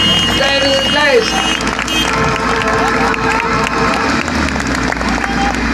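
Crowd of spectators at a monster truck stunt show cheering and clapping loudly and continuously, a dense roar of applause with an announcer's voice briefly over it early on.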